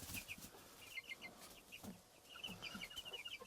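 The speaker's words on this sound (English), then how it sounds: "I fear that 3 of them are roosters and 2 are chickens." Chickens and roosters on a Finnish homestead in early spring cluck in short, repeated bursts of soft calls against a quiet outdoor background.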